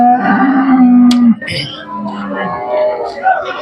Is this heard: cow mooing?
yes